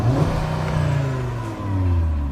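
An Audi RS3 engine revs hard and holds against its soft limiter, a loud, steady buzzing drone that wavers slightly in pitch over about two seconds, with no talking.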